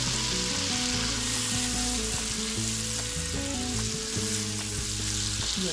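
A teaspoon of minced garlic sizzling in melted butter in a pan, meant for shrimp, with a loud, steady frying hiss close up and a faint tonal hum underneath, no talking.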